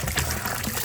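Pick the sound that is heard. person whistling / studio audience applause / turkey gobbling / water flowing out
water flowing out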